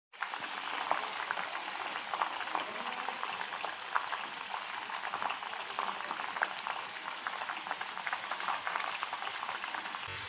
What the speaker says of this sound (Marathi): एक कमीत कमी त्याच्यामध्ये 9 ते 10 मिनटं असंच तळत राहिल्याने त्याचं तेल अगदी व्यवस्थित आपलं तयार होतं